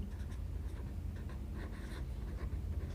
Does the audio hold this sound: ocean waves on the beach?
no